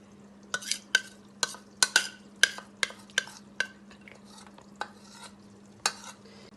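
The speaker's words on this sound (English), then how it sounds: "And just with a spoon, smoothen it out so it gets to a nice level of it." A spoon smooths vegan omelette batter across a pan in a dozen light, sharp taps and scrapes, spaced irregularly over a faint steady hum; close and fairly quiet, no voices.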